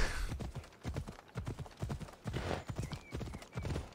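A horse gallops in the video game Assassin's Creed Odyssey, its hooves pounding in a steady, rapid rhythm, close and clear with a brief whinny-like tone partway through.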